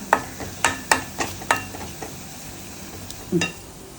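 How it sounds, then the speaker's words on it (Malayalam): Ingredients being stirred in a clay pan while frying, a series of sharp scraping and knocking strokes in an irregular rhythm over a faint sizzle, close by. "നമുക്കിതൊന്ന് മൂക്കട്ടെ കേട്ടോ"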